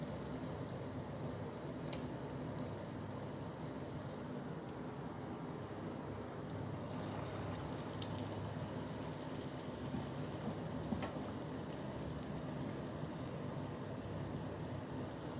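Small bonda balls bubble and sizzle steadily in hot oil in a Kerala kitchen, a continuous crackling hiss with a few faint clinks of a utensil.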